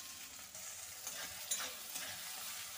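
Cauliflower and onions sizzle and fry in a pan, with a soft continuous hiss and occasional stirring scrapes, fairly quiet and without talk.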